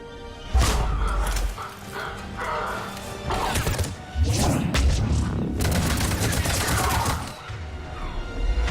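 Gunfire rattles around a pod in Mass Effect 3 as broadband bursts come in clustered volleys across the whole stretch, loud and close, mixed with booming impacts and some background voices.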